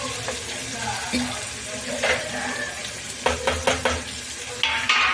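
Spice paste hits a pan for a fasting-day dish, giving a steady close sizzle with scraping stir strokes and a few louder clatters, along with faint running-water-like hiss throughout.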